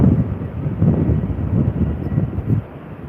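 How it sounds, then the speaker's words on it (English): An Air Canada Boeing 777-200LR airliner at the airport, heard as a low rumbling engine roar mixed with wind buffeting the microphone, fairly loud and steady. "We also have an Air Canada 777-200 of some kind ready to take off."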